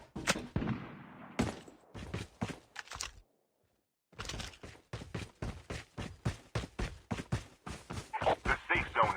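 Call of Duty Mobile gunfire pops in a steady, rapid string of close shots, broken by a brief silent gap before the firing resumes with voice callouts mixed in.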